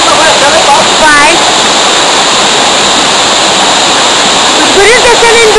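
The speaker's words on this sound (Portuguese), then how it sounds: "essa é a nona cachoeira. Tecnicamente essa cachoeira vai até lá embaixo" A loud waterfall in the Garganta do Silveirão gorge roars constantly up close, a dense rushing wash of water, with a voice talking over it briefly at the start and end.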